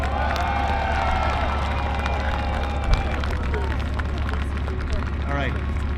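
An audience at a tank event claps and cheers for the Leopard tank crew after a battle royale. A short burst of crowd noise mixes with talking nearby.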